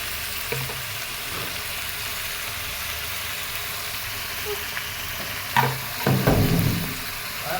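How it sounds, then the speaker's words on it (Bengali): Mutton cooking in a pan gives a continuous oily sizzle, with louder bursts of stirring and scraping near the end as the meat is turned; no talking. "মাটন রান্না করতেছি, মাটন রান্না করি"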